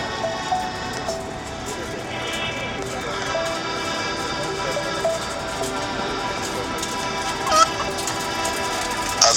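Chickens awaiting kaparot sacrifice squawk and honk in a steady, crowded din, with a few louder cries standing out near the end amid background voices.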